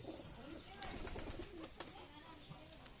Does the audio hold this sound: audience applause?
no